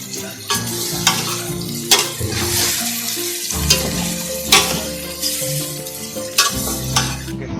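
Meat being browned (bhuna) in a cooking pot gives off a loud, close sizzle and bubbling, with repeated scrapes and knocks of a spoon stirring against the pot.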